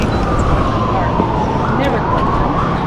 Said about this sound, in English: Ambulance going into the park.